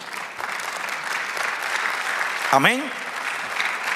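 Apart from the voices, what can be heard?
congregation applauding in church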